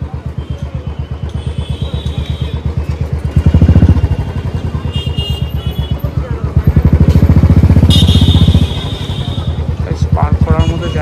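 A motorcycle engine idles and putters steadily as the rider crawls through a crowded area looking for parking, with two short revving surges and people talking over it.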